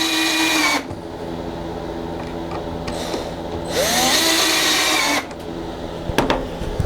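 Power drill running in two loud bursts of whirring while building an ottoman serving tray, with quieter workshop sound and small clicks between.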